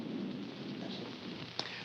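Rolling thunder in the mountains, a low sustained rumble with rain-like hiss, moderately distant and fairly quiet, with a brief sharp crack near the end.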